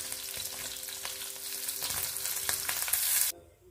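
Paneer pieces frying in hot oil in a pan make a continuous crackling sizzle with faint tapping stirs and a steady hum beneath, and it ends in a sudden cutoff. No talking is heard.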